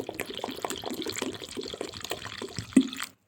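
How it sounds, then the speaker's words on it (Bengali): One cup of water poured into a bowl of soaked semolina, a close splashing pour with soft sloshing and a brief louder splash near the end before it stops. "1 কাপ জল দিলাম"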